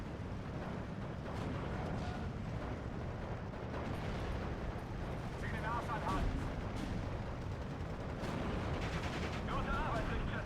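Tank gunfire from a WWII battle in Steel Division 2, with a StuG III G dueling a Sherman: booming cannon shots and bursts of gunfire over a continuous dense rumble of battle, with a voice talking over it.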